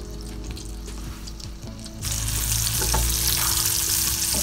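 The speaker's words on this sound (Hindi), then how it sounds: "जब तक हमारे ये कबाब फ्राई हो रहे हैं" Kebabs fry in a pan with a continuous crackling sizzle that jumps much louder and denser about halfway through, over faint scraping and handling noises; no talking.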